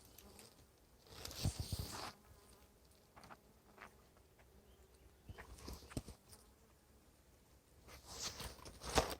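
A bee buzzes around flower clusters in a spring garden in April, faint and intermittent, swelling in short bursts as it moves near and away, with light rustling between.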